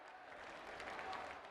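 A crowd at a medical college inauguration ceremony in Siddharth Nagar, Uttar Pradesh, claps in welcome of ministers and dignitaries, a faint, even, distant wash of applause with no clear individual claps.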